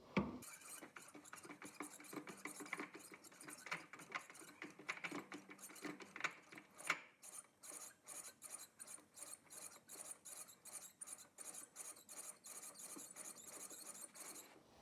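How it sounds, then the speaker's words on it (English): A hand tap cutting threads into a hole in metal for a homemade wet sharpener, giving a rhythmic series of ratcheting, squealing scrapes and clicks in short repeated strokes, close and fairly faint, with no talking. "Now I'm going to tap the hole."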